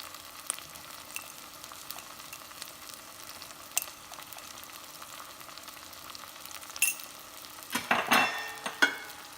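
Chopped tomatoes sautéing in a pan with chilli, turmeric and other spice powders for a village-style fish curry, a soft continuous sizzle with a brief burst of stirring and scraping near the end.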